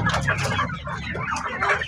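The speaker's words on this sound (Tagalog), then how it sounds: "magpili tayo ng mga malalaki na mga manok natin sa mga kulungan" Several caged chickens cluck continuously up close, a busy overlapping chatter of hens filling the whole stretch.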